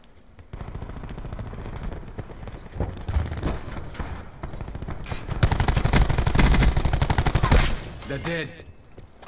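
Dense automatic and burst gunfire from a Call of Duty Black Ops 4 match, loud and continuous, swelling into a heavy volley near the end before fading.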